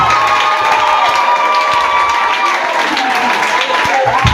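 Loud, sustained cheering and applause from a church congregation at a celebration service, a dense continuous crowd roar with shouting voices mixed in throughout.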